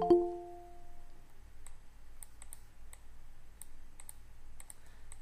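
Light, scattered clicking of keys on a computer keyboard while HTML code is being typed, soft and close, following a brief tonal sound at the start.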